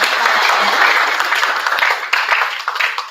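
An audience at a school health event claps for a community health centre head as he is introduced, a loud, dense burst of many hands that thins slightly toward the end.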